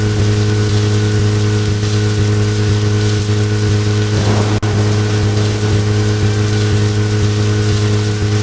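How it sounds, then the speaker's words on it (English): Steady, dense rain hisses loudly and continuously in the Deadly Premonition video game, layered over a low, constant rumbling hum, with no voices. "And all the lightning and rain isn't helping either."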